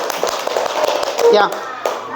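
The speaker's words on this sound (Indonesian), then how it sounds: "Tepuk tangan buat kita semuanya." Children clap in a classroom at a primary school Islamic studies lesson, scattered hand claps mixed with chatter and a teacher's voice over the top.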